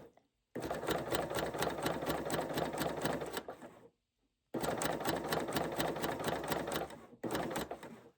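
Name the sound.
sewing machine chain stitching binding with 8wt thread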